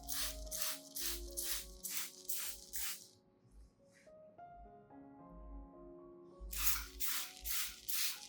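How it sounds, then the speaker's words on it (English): Repeated short bursts of a spray bottle misting cinnamon solution onto orchid roots and base, about six quick pumps, then a pause, then another run of sprays, over soft background music. "Spray the solution evenly around the base and roots"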